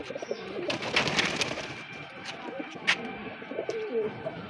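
Pigeons coo at a pigeon farm in the afternoon, with soft repeated cooing and a few scattered chirps close by amid a busy, murmuring background.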